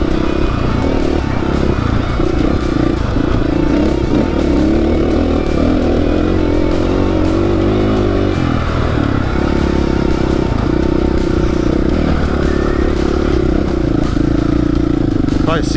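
Dirt bike ripping along rocky desert singletrack near Las Vegas, the engine loud and close throughout with steady revving, gear changes and rattling clatter of the bike over the trail.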